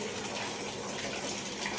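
Water pours in a steady, hissing stream from a Japanese Kangen water machine at a knowledge center, a continuous gush with no pauses.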